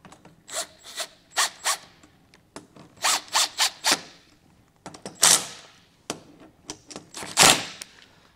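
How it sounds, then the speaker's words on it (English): A power drill drives self-tapping screws into a plastic grille on a 2020 Chevrolet Spark, with repeated short whirring bursts in groups, close and loud, separated by pauses and light clicks. "you're going to have self-tapping screws that come with your base plate, and these are going to just tighten down here"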